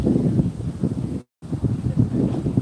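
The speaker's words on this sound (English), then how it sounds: "look at that wind, man" Strong wind gusting outdoors at night, a steady rough low roar buffeting the microphone almost throughout, with a brief total dropout partway through.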